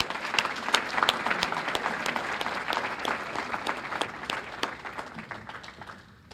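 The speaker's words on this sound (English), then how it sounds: "let's give these coaches a round of applause" A banquet audience at a high school basketball awards dinner applauds the coaches, a dense, steady round of clapping that fills the room and tapers off toward the end.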